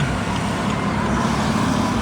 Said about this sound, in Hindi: अपनी फ्रॉन्क्स सीएनजी से इसको टोचन डाल के लेके आ रहे हैं